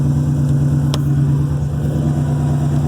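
The engine of a 1963 Oldsmobile Cutlass F85 runs steadily nearby with an even low throb and a faint rhythmic pulse, and no voices over it.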